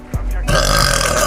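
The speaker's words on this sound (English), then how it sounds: "that was a good burp, to be fair" A single loud, drawn-out burp from a woman streaming a game, close to the microphone and preceded by a short breathy sound.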